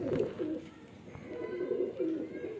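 Pigeons coo in soft, repeated throaty bursts, fairly close, with faint background rustle and a brief sharper noise.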